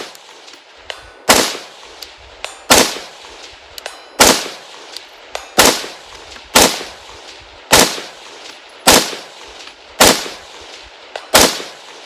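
A Springfield Armory Saint Edge rifle fires about nine loud, sharp shots at steel targets 300 yards away, evenly spaced roughly every second and a half, each crack followed by a brief decaying echo outdoors.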